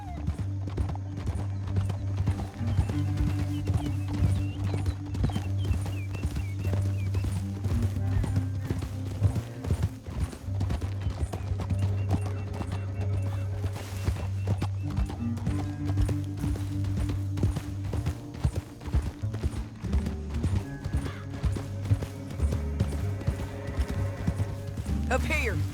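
Rapid horse hoofbeats clip-clop steadily throughout in Red Dead Redemption 2, layered with music and game sound effects, with occasional horse snorts in the mix.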